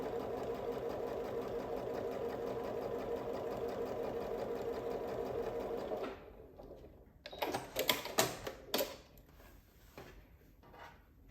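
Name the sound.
sewing machine stitching quilt binding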